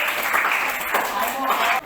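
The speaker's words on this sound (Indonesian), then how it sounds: "Pertama Elo, Devi, Sheryl, ini 3 diberi tepuk tangan dulu." Students in a classroom clap for three classmates, a short burst of brisk, dense clapping from a small group that stops abruptly after under two seconds, with some voices mixed in.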